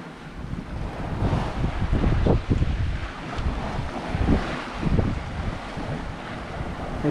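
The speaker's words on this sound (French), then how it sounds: "Le bas des falaises est blanchi par les vagues qui viennent s'y écraser." Waves crash and surge against the foot of sea cliffs amid steady wind rumble, with repeated heavy washes of surf close by, between Groix and Belle-Île.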